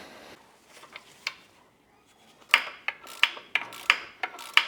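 Torque wrench tightening torque converter bolts on a BMW 335i gearbox during a burned-car restoration: a quiet stretch of soft rubbing gives way to a run of sharp, evenly spaced clicks and ratcheting snaps, close and fairly loud.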